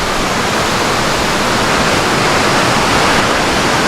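Reichenbach Falls in Switzerland, a loud, steady roar of cascading water heard up close, a dense unbroken rush lasting several seconds with no voices.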